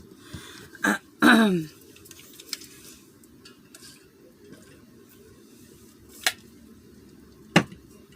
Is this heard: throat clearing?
yes